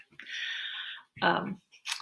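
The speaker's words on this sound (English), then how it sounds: "he's now chewing on his buffalo" A pet gnaws on a buffalo chew close by: a long steady crunching stretch, then two shorter bursts of chewing.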